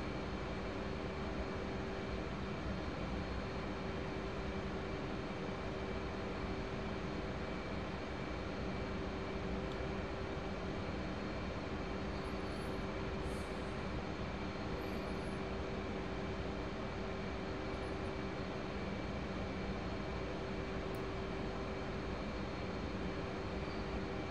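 A constant loud engine roar and hum of aircraft flying in within the DCS World flight simulator game, steady and unbroken throughout with no talk.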